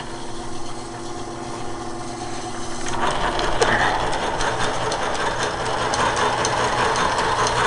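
An old metal lathe fitted with a 4-jaw chuck, used for making drive shafts, hums quietly at first, then is kicked into gear and runs louder with a steady mechanical whir and rattle, close by with no talk.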